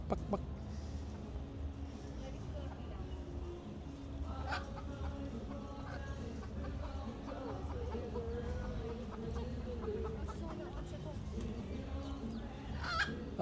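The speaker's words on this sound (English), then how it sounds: "This chicken is digging up a big hole." A chicken clucks in short, soft bursts while scratching and digging a large hole outdoors in Key West, Florida, the calls fairly close but low over steady street ambience, with faint voices in the background.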